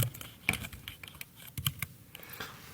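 Text is typed on a computer keyboard into a Microsoft Word document, producing irregular clusters of close, crisp key clicks with short pauses between them.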